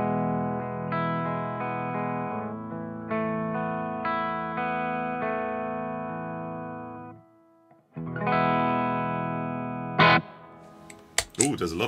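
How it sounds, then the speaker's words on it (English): An electric guitar played on its bridge pickup through an LPD Pedals Seventy4 with heavy reverb rings out in sustained, distorted chords that fade into a long wash, followed by another strummed chord and a few clicks near the end. "Ooh, there's a lot of reverb."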